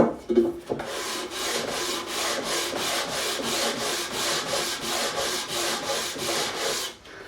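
A bouzouki fretboard is sanded during re-fretting, close and loud, with even back-and-forth strokes of abrasive on wood repeating at a quick, regular rhythm for several seconds before stopping.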